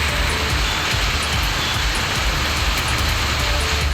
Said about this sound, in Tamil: திருப்பூரில் கடுமையான வெயில் காணப்பட்டு வந்த நிலையில் திடீரென கனமழை பெய்தது.